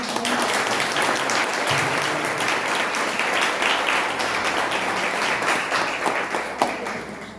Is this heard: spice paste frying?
no